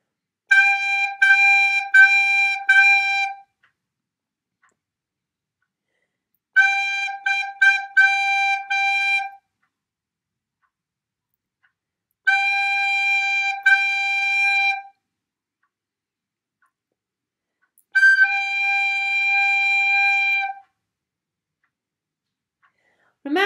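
Low G played on a recorder, sounded four times as steady held tones of roughly three seconds each, separated by clear silent gaps, clean and fairly loud.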